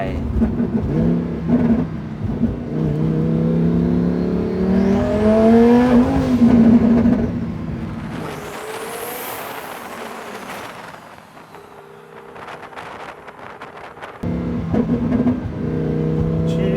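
A Lamborghini Huracán STO tuned by M-tec Autocars, turbocharged, accelerating hard with a rising engine roar and gear changes, then settling into a steady drone before revving again. People talk over it inside the car.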